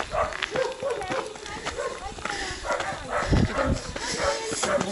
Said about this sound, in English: dogs going mad here